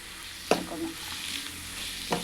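Anchovies frying with onions in a pan, a soft steady sizzle broken by a couple of sharp scraping stirs of the spoon against the pan.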